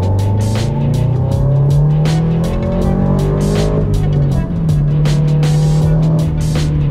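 A Subaru BRZ drives along, its engine giving a steady low drone with shifting pitch as it accelerates and eases off. Road and tire noise rumble close underneath.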